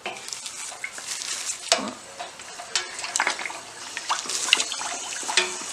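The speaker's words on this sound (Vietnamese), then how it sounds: "Thả nó vô mà nó sôi ụt ụt rồi ha." Batter is dropped into oil heated to 350°F on a stovetop for quick fried cakes, and a steady bubbling sizzle fills the clip with scattered crackles and pops throughout.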